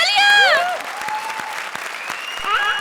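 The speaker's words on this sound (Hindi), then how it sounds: "जोरदार तालियां।" Studio audience on the comedy show Comedy Circus claps under loud swooping, pitch-sliding sound effects, and the applause stays busy in the background as the tones rise and fall.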